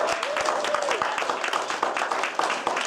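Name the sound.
audience applause for award recipients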